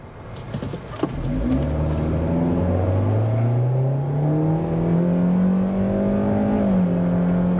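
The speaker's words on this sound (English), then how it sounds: "I'm going to do the acceleration in the smart mode again" A 2024 Hyundai Elantra SEL's engine revs up in sport mode, its pitch climbing steadily through the gears toward about 6,000 RPM as the car accelerates, loud and close.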